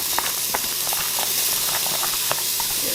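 Thinly sliced onion sizzling in a tablespoon of hot olive oil in a pan, a steady close hiss with scattered small pops and crackles throughout.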